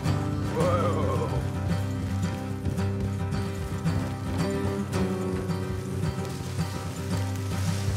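A horse in the video game Red Dead Redemption 2 gives a short whinny near the start, set against a steady backdrop of rain and game ambience.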